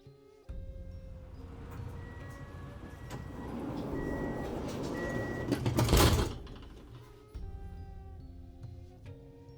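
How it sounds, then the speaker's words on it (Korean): A sliding train door rolls shut with a loud whoosh and thud, then the train hums and rumbles as it pulls away, with short beeps along the way. "문을 닫고 열차를 출발시켰다."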